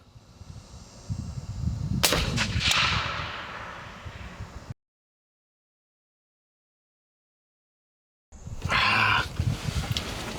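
Two sharp 30-30 rifle shots fired outdoors at a target 200 yards away, cracking close and loud in quick succession over steady wind noise, then a gap of silence.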